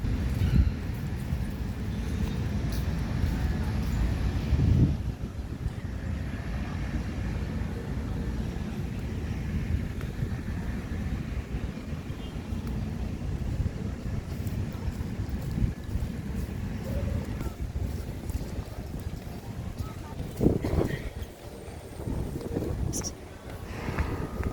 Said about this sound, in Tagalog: lumalakas na ang hangin